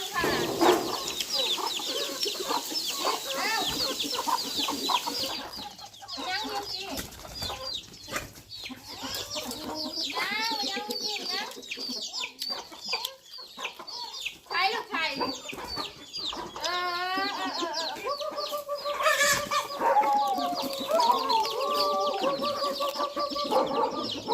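Chickens cluck steadily at close range as they are fed in the evening, with chicks among them and a few brief calls rising over the flock, while people talk intermittently nearby.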